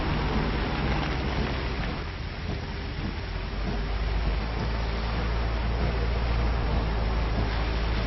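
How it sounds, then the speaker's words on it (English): Heavy, steady rain from the 1960 film Psycho pours down in a dense, continuous roar, with a low rumble underneath throughout. "Rain is pouring"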